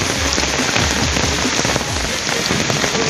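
Rain pouring down outdoors, a dense, loud, continuous patter of drops hitting surfaces close by, steady throughout with no talking.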